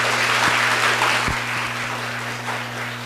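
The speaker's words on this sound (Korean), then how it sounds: "큰 박수 부탁드립니다" Audience applause after a public diplomacy academy lecture, a dense steady clapping from a crowd filling the hall, loud at first and easing slightly toward the end, with a steady electrical hum underneath.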